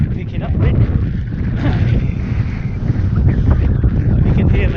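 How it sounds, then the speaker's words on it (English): Wind buffeting a microphone outdoors during an ultra marathon run, a loud continuous rumbling roar that persists throughout, with a voice speaking over it. "Wind picking up a bit."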